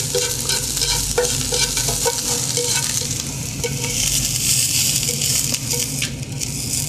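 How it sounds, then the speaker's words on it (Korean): Shiitake mushrooms and soy protein stir-fry in a pan for a Korean royal court dish, a steady, loud, close sizzle with scraping stirring and small crackles running throughout, with no talking. "표고버섯과 콩담백은 약간 익을 정도로 조금 더 볶습니다"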